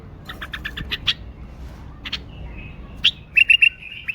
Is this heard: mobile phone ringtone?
no